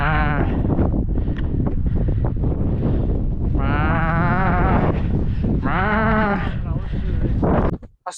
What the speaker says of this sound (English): Let's tame the sheep.